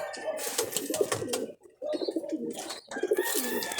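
Young banded racing pigeons in a loft coo repeatedly in low, rolling phrases, several birds overlapping with brief pauses between bursts and other birds chirping in the background.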